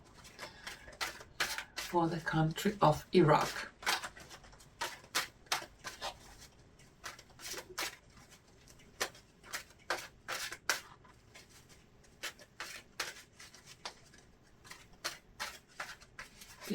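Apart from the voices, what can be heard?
shuffling tarot cards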